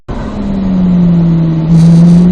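A car accelerates on a race track during a driving session, its engine rising from a sudden start into a loud, steady, close growl that swells further near the end, with no voices.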